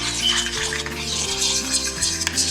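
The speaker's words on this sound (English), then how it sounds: "I'm gonna give it a good mix" A spoon scraping and stirring seasoning with sugar in a bowl for oxtails, a steady close rasp of utensil against the bowl, bright and continuous, with music playing underneath.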